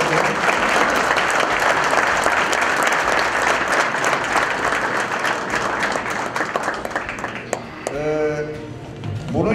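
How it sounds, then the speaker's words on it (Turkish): Applause from a crowd at a yacht captains' and workers' association workshop, loud, sustained and dense for most of the clip, thinning near the end as a brief voice cuts in. "onu da alkışlamanızı diliyorum"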